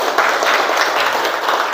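A classroom of students claps together in a dense, steady burst of applause that runs throughout, with some voices mixed in underneath.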